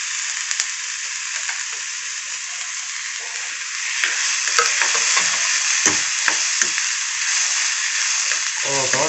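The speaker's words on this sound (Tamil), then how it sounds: "கோவக்காய் நல்லா வதக்கணும்." Ivy gourd sautéing in a hot pan with onions, a steady close sizzle and crackle with occasional scraping stir strokes, intensifying slightly halfway through.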